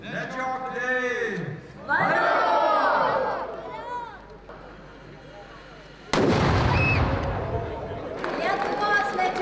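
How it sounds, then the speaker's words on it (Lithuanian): A ceremonial cannon fires once to open a national hunting trophy exhibition outdoors, a sudden loud boom that rings out after announcements over a loudspeaker, with the crowd noise following. "Tai yra atidarymo patrankos šūvis."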